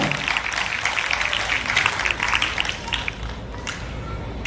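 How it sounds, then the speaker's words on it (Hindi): Loud, dense applause from a large audience at an inter-school group dance competition, continuous throughout with no pauses. "एक बार अपने लिए जोरदार तालियां हो जाए, कम ऑन"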